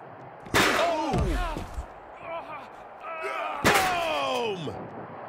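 Two heavy slams as a wrestler is driven into a chair during a WWE 2K23 backstage brawl, Umaga vs Elias, on Xbox Series S, each impact booming loudly with crowd noise behind.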